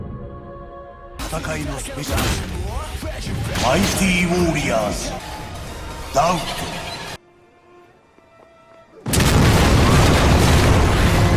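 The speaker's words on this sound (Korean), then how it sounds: "루드보이즈의 본거지인 무명가도 원인모를 폭발에 휩싸이게 됩니다" Explosion engulfing the Rude Boys' base in a film, loud booming blasts and crashing rumble under dramatic score with speech, a brief quiet gap, then a sustained roaring burst.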